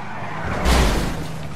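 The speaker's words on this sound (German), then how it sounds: "Auto fährt zum Glück noch. Ist auch ein Wunder." A car skids with squealing tyres in the Grand Theft Auto 5 video game, a single short screech that swells loud midway over steady engine noise.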